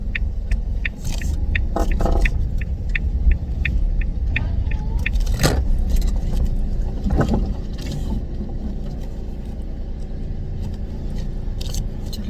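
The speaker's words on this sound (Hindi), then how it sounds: "चलो शुक्र है घर के बाहर तो निकाल ली गाड़ी" A car engine rumbles steadily at low speed as it is driven out past a house, with scraping, clicks and light rattles over the continuous drone and no talking.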